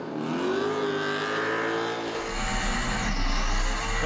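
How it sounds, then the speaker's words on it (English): A burnout car at Perth Motorplex revs hard against the rev limiter, its engine screaming steadily near and loud for the whole stretch without a break. "The Carby's reaching high. Oh, and so too are the revs"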